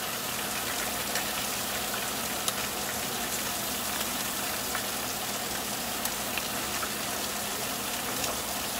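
Bacon for cheeseburgers fries on a hot cooktop, a dense, even crackle and hiss at moderate distance that runs unbroken, with a few small pops.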